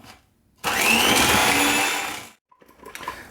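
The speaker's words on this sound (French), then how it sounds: "je vais donc fouetter et je veux que ça double, voire triple de volume" An electric whisk beats eggs with sugar in a mixing bowl, giving a loud, steady high-pitched whir for about two seconds that then cuts off, followed by faint light clatter.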